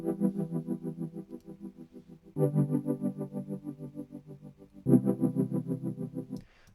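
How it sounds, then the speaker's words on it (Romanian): A looped synth phrase run through Beat Crusher's Rough Crunch distortion at about 30%, buzzy and gritty, repeating in three pulsing cycles before cutting off, with no talking. "Am mai adăugat un pic de distortion de Beat Crusher. Rough Crunch."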